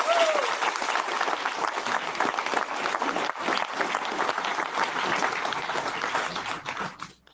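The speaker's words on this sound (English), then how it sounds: "Round of applause for Art." Audience applause at a Catskill Watershed Corporation event, a full, steady roar of clapping from a room of people with a few voices mixed in, sustained before fading out at the end.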